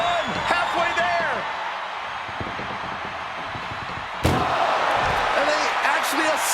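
One heavy, sharp slam lands partway through a wrestling video game ambulance match. It is set against constant crowd noise, and a commentator's voice talks over it.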